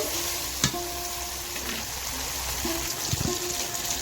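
A spoon works raw cumin paste into curry frying in a pan, giving a few distinct scrapes and knocks over continuous sizzling, close by with no speech.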